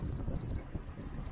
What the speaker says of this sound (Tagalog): napakalakas ang hangin talaga.